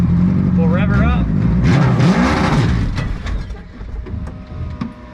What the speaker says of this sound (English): I'm going to be dumping it in second and then getting right on the brake. So, there's second. We'll rev her up